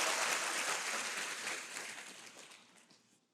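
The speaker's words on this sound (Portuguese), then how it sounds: "Aplauda bem forte a Jesus" Church congregation applauding together, a dense wash of clapping that starts full and gradually fades away over a few seconds.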